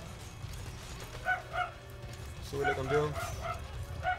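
Several dogs bark in the Metal Gear Solid V video game, two short yaps early, then a quicker run of barks, under someone talking over steady game background noise.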